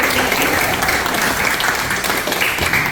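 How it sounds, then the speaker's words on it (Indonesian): A room full of people clapping steadily together, loud and sustained throughout. "Oke, setuju. Tepuk tangan."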